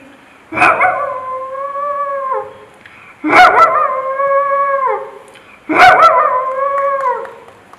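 A mimicry performer at a state school arts festival imitates a dog howling: three long, wavering howls, each trailing off, close and loud with brief gaps.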